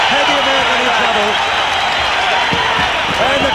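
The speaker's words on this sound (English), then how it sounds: "the crowd here at this entertainment centre are going berserk" Crowd roaring at a 1992 kickboxing fight in an entertainment centre, a loud dense wall of cheering under a commentator's voice, with scattered thuds beneath.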